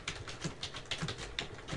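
Keys on a computer keyboard are tapped in a quick, uneven run of soft clicks at close range, faint and with no talk.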